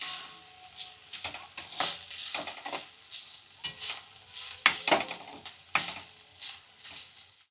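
Fresh green turmeric roasting in a pan over a low gas flame, with repeated scraping stirs and soft sizzling in uneven bursts, close up and without talk.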